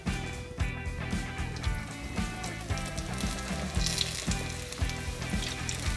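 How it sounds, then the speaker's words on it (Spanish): Empanadas frying in hot oil, a continuous close sizzle with bubbling crackle and occasional splashes, with no talking. "Mi aceite ya está caliente, mis empanadas listas y vamos a freír."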